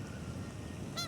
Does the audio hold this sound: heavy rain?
no